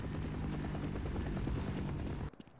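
Half-Life video game helicopter roaring close with a dense, steady rotor chop that cuts off abruptly near the end, leaving brief faint sounds.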